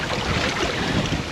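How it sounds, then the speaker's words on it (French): Wind of about 17 knots from the north-northwest rushes over a sailboat at sea off Sardinia, a loud, close, continuous buffeting roar against the microphone with water wash underneath and no talking. "c'est du vent du nord-ouest, surtout du nord"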